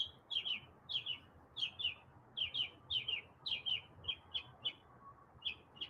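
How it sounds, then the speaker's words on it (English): A small bird chirps repeatedly in quick paired notes, a steady run of bright calls that sound fairly close over a quiet background, with no talking. "Loud bird."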